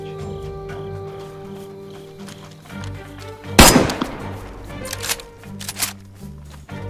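A sharp burst of gunfire cracks out amid DayZ game sounds and a steady electronic hum, followed by scattered smaller shots and clatter.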